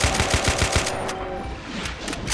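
Rapid gunfire from a weapon in the first-person shooter Golden Souls 2, a burst of loud repeated shots in quick rhythm during the first second, followed by scattered booms and game noise.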